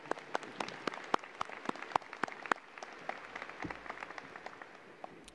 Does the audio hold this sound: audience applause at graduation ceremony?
yes